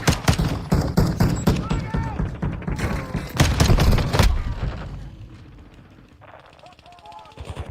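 X12 pistol gunfire in Call of Duty Modern Warfare II: rapid, loud shots in quick strings over the first half, mixed with other weapon fire and thuds, then fading into quieter game sounds with voices talking.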